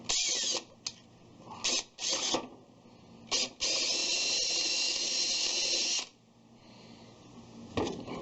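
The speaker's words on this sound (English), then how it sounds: "I'm just going to drill it out by hand from here." A hand drill grinds in short bursts, then runs in one longer stretch before stopping, drilling out a pin on a Peerless Tecumseh transaxle, with faint mechanical clicking, close up.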